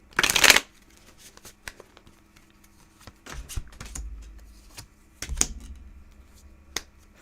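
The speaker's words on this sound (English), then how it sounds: "One more big shuffle." A deck of tarot cards gets a quick, crisp riffle shuffle at the start, followed by softer scattered taps, slides and card handling, close up and otherwise quiet.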